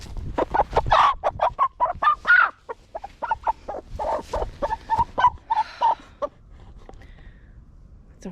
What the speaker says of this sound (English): There's a lot of nice chickens